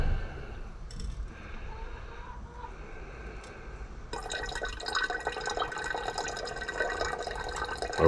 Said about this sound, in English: So I'll pour this off.